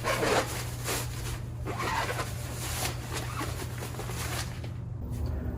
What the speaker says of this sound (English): And then you just zip it up.